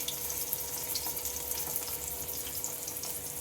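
Stuffed pointed gourd filled with masoor dal frying in oil in a pan over a low gas flame, a steady, dense hissing sizzle throughout with no talk.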